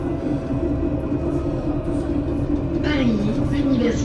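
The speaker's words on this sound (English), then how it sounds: "Are we on the tram?" Steady low rumble of a tram riding along rails, with a rising whine of the motor near the end; no talking.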